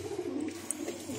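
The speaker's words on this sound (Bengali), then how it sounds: "আরসাদের পুরনো পুরনো লাইনের পায়রা একদম এই নর এই মাদা এই দুটো ডিম নিয়ে বসে আছে" Old-line pigeons in a loft, a pair sitting on two eggs, make a soft, low, rolling coo that runs steadily through the short moment.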